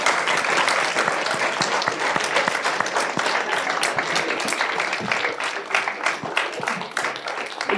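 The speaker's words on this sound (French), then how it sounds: "Je pense qu'on peut vous applaudir" Audience applauding after a talk on video game careers, a dense patter of many hands clapping for several seconds and slowly thinning toward the end, with no voices over it.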